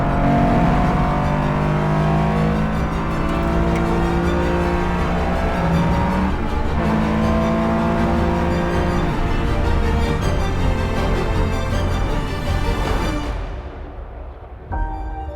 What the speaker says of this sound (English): And the view from the helmet of Maxime Guéna aboard his Porsche RSR.